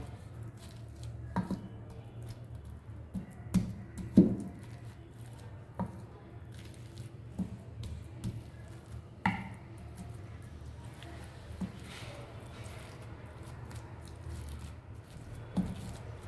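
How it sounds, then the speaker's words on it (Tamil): Boiled potatoes are pressed and squashed with a dal masher in a kitchen, giving soft, quiet, irregular squishing thuds and light knocks spread across a low background hum. "இந்த மாதிரி பருப்பு மத்து வச்சு நசுக்கி விட்டுக்கோங்க"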